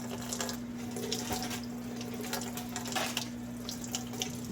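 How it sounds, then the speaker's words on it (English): Lukewarm tap water runs steadily from a faucet into a sink as glass canning jars are rinsed, a continuous close splashing flow with no talking. "And then I will rinse these off."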